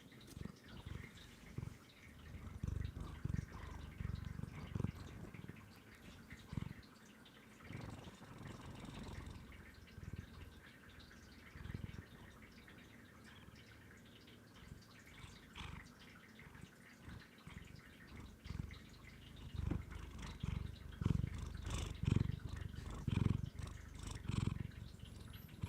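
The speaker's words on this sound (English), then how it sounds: "Here's your daily Okayu purring." A cat named Okayu purrs close to the microphone in a soft, steady rhythmic rumble, quiet and intimate, with occasional faint clicks and shifting as the purring continues for a long stretch.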